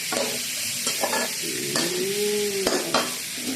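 Fish blanching in a hot wok for a Thai basil stir-fry, a steady close sizzle and bubbling with intermittent scrapes and clanks of a spatula stirring, no talking.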